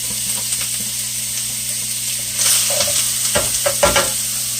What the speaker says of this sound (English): We're going to saute those for about a minute or so